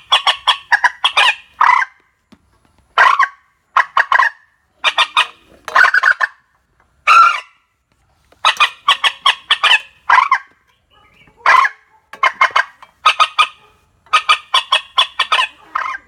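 Bursts of loud, shrill night bird calls played through an amplifier repeat in rapid clustered notes separated by short pauses, sounding close and electronically amplified.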